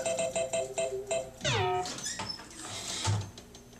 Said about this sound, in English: Let's do a flasher show. Shaker motor will go off with it too